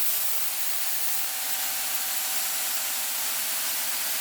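Spray gun laying primer onto a Honda hatchback body panel: a steady, close, uninterrupted hiss that holds at an even level throughout, with no voices.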